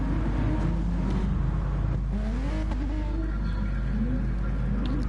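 Race cars roar down the start-finish straight in the GT Sport game during an NGR Race of Winners event, a steady dense engine drone with rising and falling revs from several cars passing in a pack, loud and continuous with no speech.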